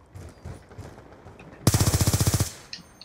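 A single loud burst of about a dozen rapid machine gun rounds rips through a video game match, sharp and close, following quieter background game sounds and ending abruptly.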